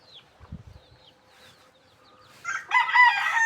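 A young rooster, a five-month-old stag, crows once toward the end, fairly close and moderately loud, after a few quiet low thumps and faint background sounds.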